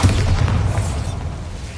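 A Bombarda spell explodes in the Hogwarts Legacy video game, giving a heavy, booming blast with a deep rumble that tails off gradually.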